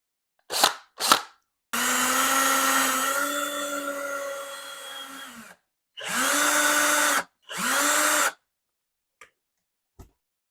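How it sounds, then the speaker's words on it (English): A power drill bores pilot holes into wood for a dispenser install, with two short blips and then a long whining run followed by two shorter bursts, near and clear with no speech. "I'm going to be drilling pilot holes into the wood using the length of that screw"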